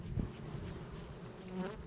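Honey bees buzz around an acacia-honey hive frame during harvest, a close, continuous droning hum with individual insects passing near and swelling briefly.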